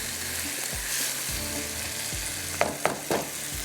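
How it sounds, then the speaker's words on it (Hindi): Chicken sizzling in a karahi as it is fried, a steady close hiss of hot oil with low scraping stirs and a few sharp clinks of the spoon against the pan near the end. "इसको करेंगे भूनेंगे अच्छी तरह, अच्छी तरह से आपने इसको भून लेना"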